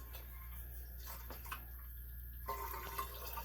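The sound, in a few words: liquid yeast pouring into a flask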